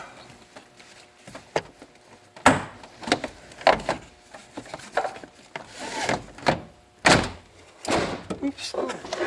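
Plastic trim clips on a 2003 Honda Civic EX Coupe are knocked into place during a rear speaker replacement: repeated dull thumps and rubbing knocks in uneven bursts, close by, with some faint talk underneath.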